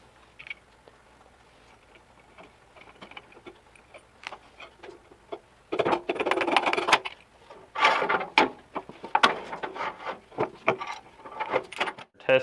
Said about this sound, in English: I'm going to go ahead and reassemble all these washers on here and then slide the axle back through